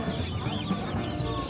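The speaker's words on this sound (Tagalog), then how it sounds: "Daming manok ngayon dito." Chickens at a busy pet market cluck and murmur in a steady, overlapping chorus, close and moderately loud, with general market bustle around them and no clear talk.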